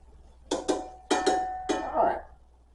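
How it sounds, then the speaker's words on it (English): Cooked meat and fat poured from a metal pan into a colander over a bowl: a series of about six sharp, ringing metallic clanks and scrapes in three quick pairs, close and moderately loud, with a short wet slide at the end. "I'm just going to pour this in this colander"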